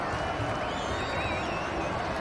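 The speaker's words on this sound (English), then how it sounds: "Well, listen to the crowd." Rugby league stadium crowd roaring after a try in a 1992 Manly versus Newcastle match, a dense continuous wall of cheering and shouting with whistles above it, steady and loud throughout.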